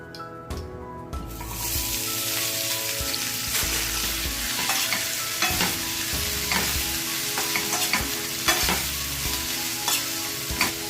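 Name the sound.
onions frying in oil in a pan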